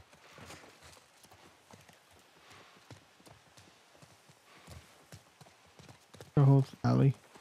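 Horse hooves clip-clop at a slow pace in The Last of Us Part 1 video game, faint and rhythmic, before two loud bursts of a voice speaking near the end.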